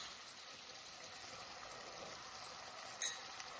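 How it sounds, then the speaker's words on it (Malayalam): Kerala-style crab curry being stirred in a pan with the lid off: a faint, steady sizzle and bubbling throughout, with a brief light clink of the spoon near the end. "മൂടി തുറന്നൊന്ന് ഇളക്കി കൊടുക്കാം."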